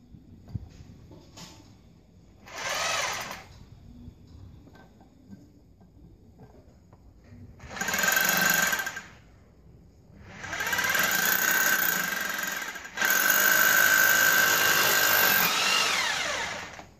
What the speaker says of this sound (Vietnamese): bây giờ sẽ khoan thôi.